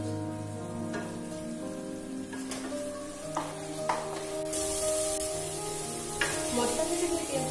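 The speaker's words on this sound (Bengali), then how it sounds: "দিয়ে দিয়ে আবার ভালো করে এটাকে কষিয়ে নেব, তেল ছাড়া পর্যন্ত আমি এটাকে কষিয়ে নেব।" Chopped tomato and spices sizzle and fry in hot oil for chana masala, a steady close crackling hiss with occasional scraping stirs and sharper spatters.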